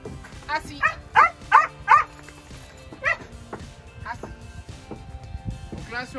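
Kennel dogs barking in a quick run of four loud, evenly spaced barks, followed by a lone bark and scattered faint yips, while a person speaks through the quieter stretch.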